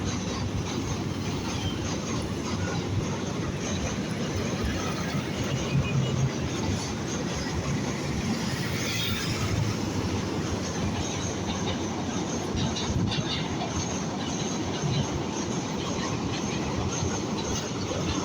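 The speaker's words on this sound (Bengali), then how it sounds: "এই যে বন্ধুরা দেখো, জগ ট্রেন চলেছে, ট্রেন চলেছে" A long passenger train passes near Ashuganj, Bangladesh, producing a loud, steady rumble and rattle of wagons with rhythmic clickety-clack from the wheels, sustained close by for the whole stretch.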